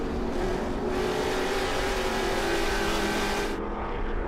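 Trans Am TA2 race cars battling at Road Atlanta, engines screaming loud and close in a sustained high-revving roar, with a brief shift in tone near the end.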